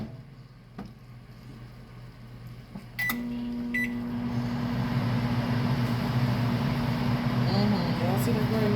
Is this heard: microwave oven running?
yes